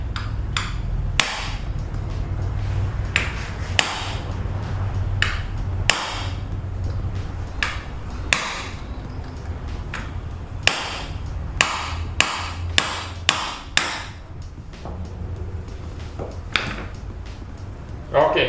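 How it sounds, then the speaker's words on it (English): A hammer strikes a punch to crack the race of a front wheel bearing on a car, giving a series of sharp metallic blows, sparse at first and then in a quicker cluster, close and loud, while someone talks between strikes. "Now we are going to use a punch or a hammer, okay, and we'll try to crack it."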